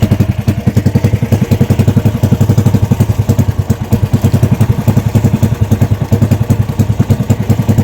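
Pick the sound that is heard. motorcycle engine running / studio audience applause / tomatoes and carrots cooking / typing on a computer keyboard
motorcycle engine running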